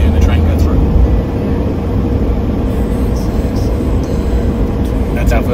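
A train passing through a residential area near a railway crossing, heard as a loud, continuous low rumble and roar that fills the stretch without letup.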